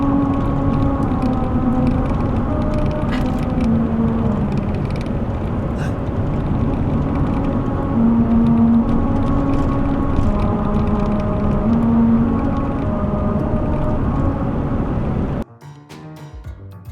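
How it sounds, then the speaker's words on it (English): A car rolls over the grooved singing highway musical road, producing a loud steady drone with a sustained tune of shifting pitched notes that cuts off abruptly near the end. "Have you ever in your life heard a street sing?"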